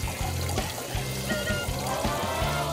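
Eggs rinsed under cold running tap water, a steady trickling and splashing stream with a few light knocks, close and continuous throughout.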